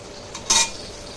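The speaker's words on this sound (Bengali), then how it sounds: "এবার এটা কষিয়ে নেব।" A spoon clinks and scrapes against a pan while chana dal is stirred and sautéed, a single brief metallic scrape over a soft background hiss.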